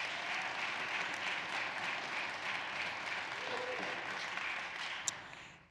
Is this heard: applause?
yes